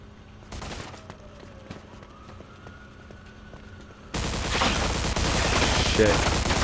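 Gunfire in the Mafia 2 video game: scattered sharp shots over a quiet stretch, then a dense, loud burst of rapid fire with a siren-like wail, and a voice speaking briefly.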